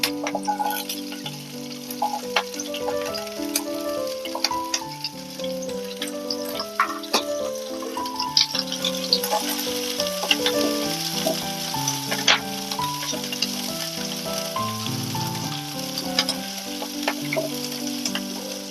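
Green chilies and onion frying in chili oil, a loud close crackling sizzle with stirring, heard alongside a melodic background tune throughout.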